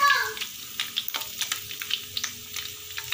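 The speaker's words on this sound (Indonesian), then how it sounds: "Hati-hati kalau menggoreng hati itu meletup-letup." Beef liver frying in a pan with garlic and shallots, a steady close sizzle dotted with sharp pops and crackles spitting through most of the stretch.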